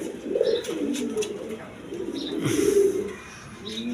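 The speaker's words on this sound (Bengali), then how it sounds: "এইখানে এক পেয়ার মসলদম কবিতর আছে" A male and female Mosoldom pigeon pair coo in soft, repeated low warbling phrases, close by and steady, with faint background noise and brief higher chirps.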